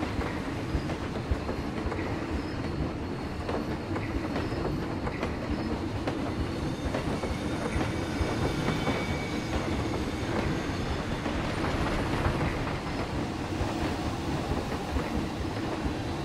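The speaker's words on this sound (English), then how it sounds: "my favorite thing to ride right now is the train coming up through these areas" A train in the video game Planet Coaster rides its rails with a continuous close rumble and rhythmic clickety-clack, with occasional wheel squeals over the steady roll.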